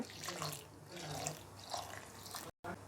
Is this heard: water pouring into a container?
yes